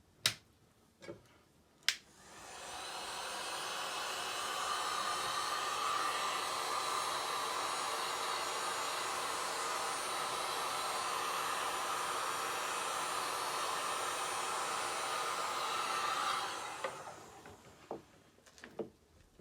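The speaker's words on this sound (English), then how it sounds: "get your heat gun and gently warm up where the decals are" A heat gun blows steadily for about fifteen seconds to warm vinyl decals during a DIY vinyl wrap, with a broadband airy roar that starts and stops abruptly, framed by a few sharp clicks of the switch.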